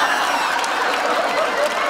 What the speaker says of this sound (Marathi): एकदा जोरदार टाळ्या अरे मारा